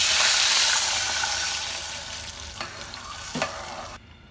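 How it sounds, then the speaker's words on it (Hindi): Water hits a hot pan of sautéed beef with a loud, broad sizzle that gradually settles, followed by a couple of sharp clinks from stirring before it cuts off. "अब हम इसमें पानी डाल देंगे।"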